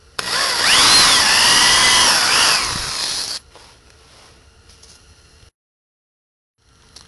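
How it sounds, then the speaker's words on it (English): A power drill bores straight through a block during food cart construction, a loud close whine lasting about three seconds before it cuts off, followed by quiet handling noise and a short silence. "Then I'm just going to drill all the way through the block"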